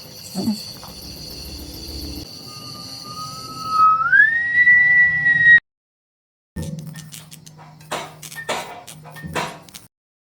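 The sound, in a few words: person whistling at night in a film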